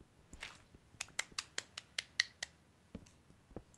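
Hand clapping in a home setting during a Minecraft survival session, about ten sharp claps in an irregular then steady rhythm, close and fairly quiet, with no talking.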